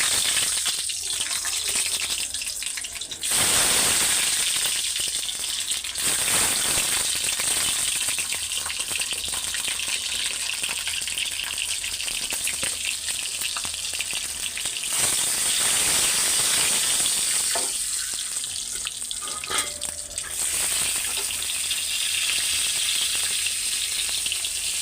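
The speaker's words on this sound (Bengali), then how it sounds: "আর এই যে ডিমটা ভাইজা নিব" An egg fries in hot oil in a home kitchen, a loud steady hiss and crackle of spattering oil running throughout with brief lulls and surges.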